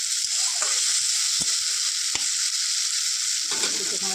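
Bitter gourd curry fries in mustard oil with spices, a loud, even sizzle that stays steady throughout, with a few soft knocks of a stirring spoon.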